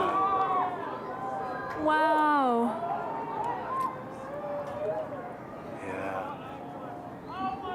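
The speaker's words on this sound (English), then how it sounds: "You can hear people screaming in the background." A crowd cheers and screams at an annular solar eclipse, the excited shouts rising and falling in the distance beneath a close, enthusiastic voice.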